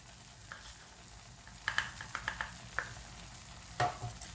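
A sweet peda mixture with added sugar is stirred in a pan by an Indian cook in Scotland, giving a quiet, steady scraping with a few sharper clinks and faint sizzling. No one speaks.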